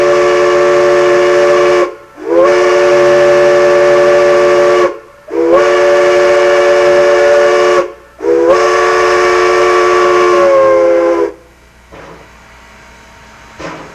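Steam locomotive whistle giving three long, loud, steady blasts separated by short gaps, signalling the flagman to come in from the south, with faint hiss trailing after the last blast.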